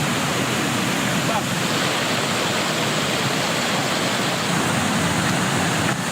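The swift current of the Batang Anai river rushes steadily with a dense, loud, unbroken roar of churning water across the whole stretch.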